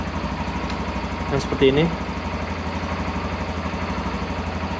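A Honda CT125 Hunter Cub motorcycle engine idles in a steady low putter underneath someone talking nearby.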